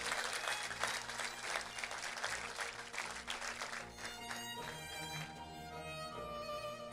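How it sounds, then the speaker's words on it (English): Graduation ceremony audience applauds steadily for about four seconds, then the clapping thins as sustained music tones rise beneath it, the crowd noise continuing at a moderate level throughout. "Give him a big round of applause."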